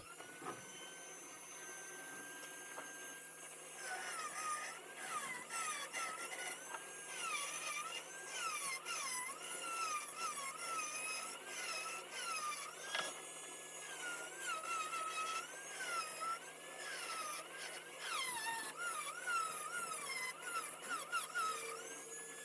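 An angle grinder with a cutting disc whines continuously at close range, its pitch wavering up and down as it cuts through metal for an extended stretch.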